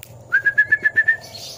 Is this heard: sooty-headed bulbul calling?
yes